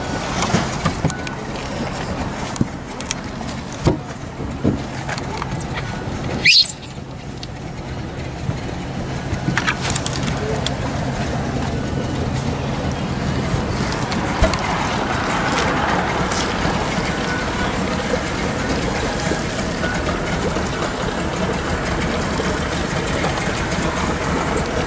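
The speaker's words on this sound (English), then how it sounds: "Turn trolling motor on." Trolling motor running on a 2008 Tracker Pro V16 aluminum fishing boat on the water, a steady close motor hum with some knocks early on and a continuous drone thereafter.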